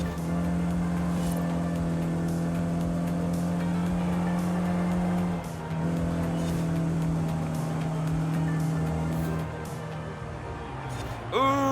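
DS car driving in Forza Horizon 5, a steady loud engine drone with harmonic bands that dips briefly mid-run and shifts near the end, continuous throughout.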